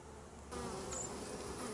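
Honeybees buzz busily in front of beehives, a dense, close drone that swells louder partway through and holds steady.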